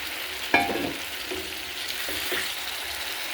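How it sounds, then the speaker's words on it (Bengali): Chicken meat drops into a pan of spice masala being fried for a village-style potato chicken curry, a sharp onset followed by a steady loud sizzle with stirring scrapes, close and without talk. "মশলা কষা হয়ে গেছে, দারুণ একটা সেন্ট বেরোচ্ছে। এবারে মাংসটা দিয়ে দিচ্ছি।"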